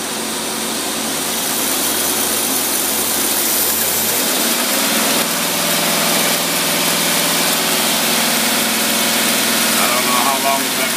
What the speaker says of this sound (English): that carburetor could not run any better